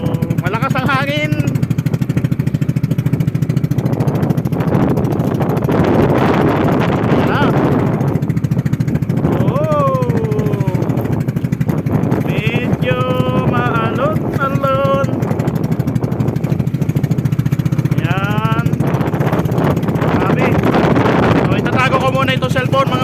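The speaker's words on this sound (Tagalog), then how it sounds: "So malakas ang hangin." Strong wind buffets a small boat on choppy open sea, a steady loud roar of gusts and engine rumble filling the whole stretch while people talk over it.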